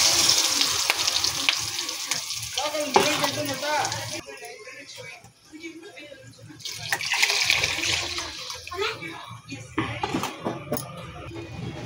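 Ground masala paste hits hot oil already crackling with mustard seeds and curry leaves for a fish sambar, giving bursts of sizzling and watery hiss under a speaking voice.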